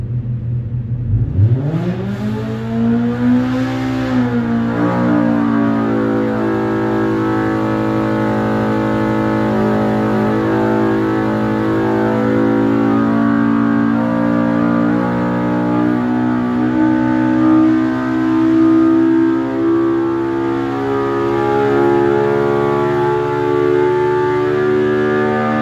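A Pro R engine fitted with an Evo header, Evo muffler and Evo tune revs up hard on a dyno run, rising quickly to a loud sustained howling wail that holds steady with slight wavering.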